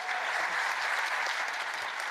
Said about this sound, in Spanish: Pido un fuerte aplauso de nuevo para todo el panel.